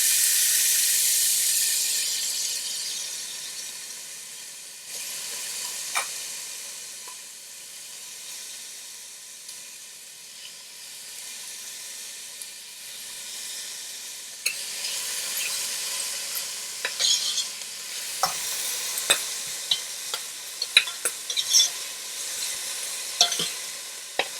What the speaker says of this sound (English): Okay, and then I'm gonna go in with the onions, the half an onion that I already chopped up.